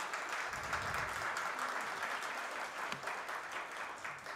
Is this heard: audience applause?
yes